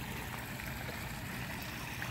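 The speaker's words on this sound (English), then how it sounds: "I just turned on the waterfall today." Water from a newly built backyard pond waterfall runs in a steady, dense rush, with even noise throughout and no voices or other distinct sounds.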